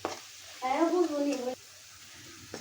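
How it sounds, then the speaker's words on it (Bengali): Onion and garlic drop into plenty of hot oil, a brief sizzling burst that swells for about a second, then settles to a quieter hiss, close by with no talking. "তেল দিয়ে দিলাম বেশি করে। এখানে আমি বেশি করে পেঁয়াজ রসুন একসাথে দিয়ে দিলাম।"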